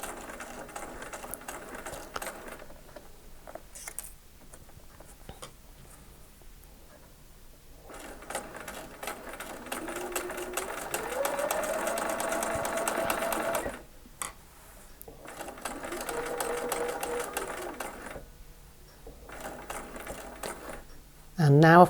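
A sewing machine stitches across a bulky seam while piecing an eight-point star, running in steady bursts that slow and speed up, with quiet pauses between runs at close range.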